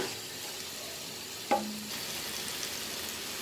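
Chicken dum biryani masala with coriander powder frying in a pan, a steady low sizzle throughout with one brief clatter of stirring midway.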